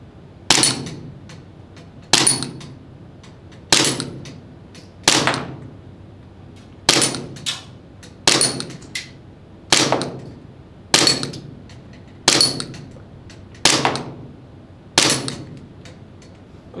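A Glock pistol fitted with a DASH slide fires single shots at a target outdoors, eleven sharp cracks spaced about a second and a half apart, each ringing briefly, with no talk.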